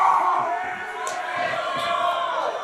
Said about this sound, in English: Crowd going absolutely ballistic there.